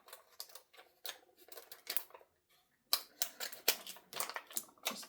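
Scissors cut out paper pieces for a craft index project, giving rapid close snipping and crisp crunching cuts in short bursts, with a brief pause midway before a louder series of snips.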